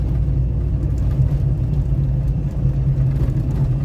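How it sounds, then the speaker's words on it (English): A truck engine fitted with a lawn mower fuel pump runs as a steady, smooth low rumble with an even hum, heard continuously and without talk. "So far the truck's running really smooth"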